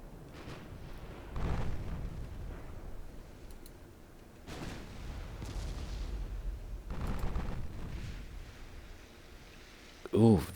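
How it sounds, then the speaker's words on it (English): A warship fires broadside salvos in the naval game Ultimate Admiral Dreadnoughts: several heavy booming reports spaced a few seconds apart, rumbling low and loud, with a sharper crack at the very end. "we're turning broadside. And we're opening fire."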